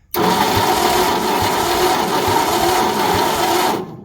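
A damaged engine cranks on its starter, powered from a jump box at low voltage. A loud, steady whir is punctuated by regular dull thumps about every half second; it starts abruptly and cuts off after roughly four seconds.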